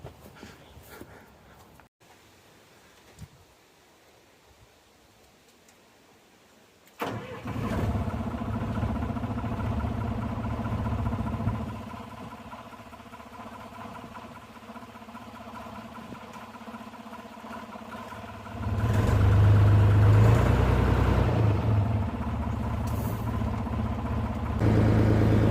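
A 1974 O&K MH3 excavator's diesel engine cranks and fires, then settles into a steady, close idle with a louder surge of revs later; no talk.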